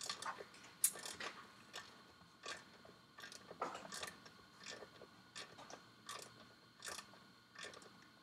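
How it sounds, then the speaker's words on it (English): A socket ratchet clicks during a Vespa-style P125 engine rebuild: faint, regular bursts of light ratcheting clicks, roughly one every half second to second, heard close but quiet against a low room hum with no talking. "It feels like it doesn't click enough, Lou."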